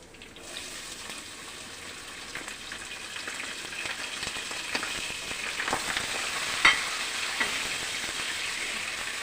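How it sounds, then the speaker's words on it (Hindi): Chopped onion fries in a pan, a steady close sizzle that grows slightly louder, broken by occasional stirring clatter, with no talking. "प्याज हमारी बिल्कुल हल्का सा कलर आ गया है।"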